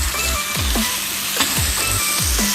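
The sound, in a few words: food frying in pan before adding green onion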